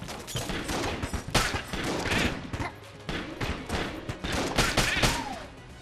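Rapid video game gunfire in Enter the Gungeon from a gun firing multi-hit tracking bullets, dense bursts of sharp shots and impacts throughout, loud and continuous with busy game effects.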